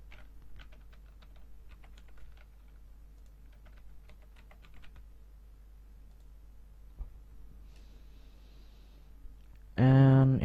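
A password is typed on a computer keyboard during a Kali Linux install in VMware Workstation, heard as a few quiet bursts of key taps in a still room, followed by a loud, brief burst of sound at the end.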